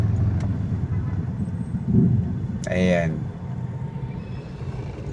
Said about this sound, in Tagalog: Ayan mga kababayan, napaka-traffic sa Cubao.